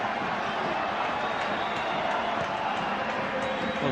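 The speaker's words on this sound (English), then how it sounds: "The crowd trying to get behind their team now." Football stadium crowd at a Livorno versus Glasgow Rangers UEFA Cup night match, a dense, continuous roar of cheering and chanting that stays close and loud throughout, with a commentator's voice faintly over it.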